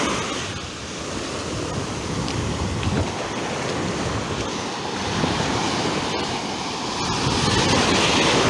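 Sea waves wash continuously over the shore between Chania and Daratsos in Crete, a loud broadband surf roar mixed with heavy wind buffeting on the microphone.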